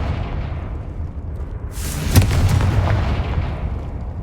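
A Confringo blasting spell going off in the video game Hogwarts Legacy, a single loud boom with a sharp crack and rumbling tail over low background music, no talking.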